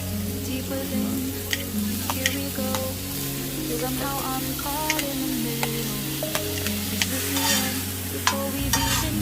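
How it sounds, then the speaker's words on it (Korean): Fried rice is stir-fried on a griddle at a winter auto campsite in Ulsan's Baenaegol valley. There is steady sizzling with repeated scraping and tapping of a utensil, loud and close, with no talk. "쭈꼬맹이 먹을 볶음밥 준비 시작."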